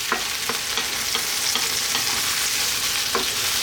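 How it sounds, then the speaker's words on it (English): A spoon scrapes through eggplant and tomato pasta sauce in a pan with several soft, regular stirring strokes over a constant close-up sizzle and bubbling. "We're going to give this a nice mix"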